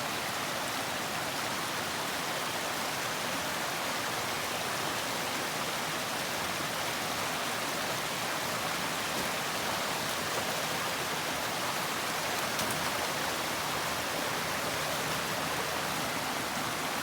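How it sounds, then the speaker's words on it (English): A vehicle fords a creek on a backcountry ride at Fires Creek, and water rushes and splashes in a steady broadband wash that stays loud for the whole stretch with no pauses. "Creek crossing."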